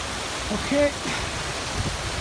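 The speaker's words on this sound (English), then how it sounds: "The water pouring down." Water pours down a steep mountain stream in awful weather, a continuous broadband rush that fills the clip, with a brief faint tonal sound near the start and no speech.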